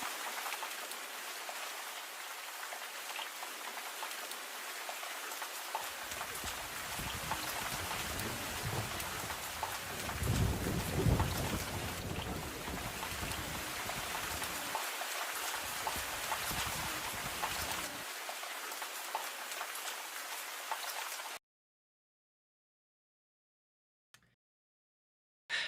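Heavy rain pours steadily onto tents in a displacement camp, with low rumbling thunder rolling through the middle of the downpour before the sound cuts off abruptly near the end.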